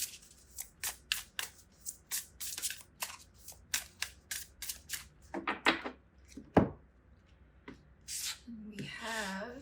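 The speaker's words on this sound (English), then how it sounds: "Let's grab some of these oracle cards for you." Oracle cards are grabbed and shuffled close by: a fast run of crisp, papery riffles and slaps, followed by a few louder flicks and a brief rustle at the end.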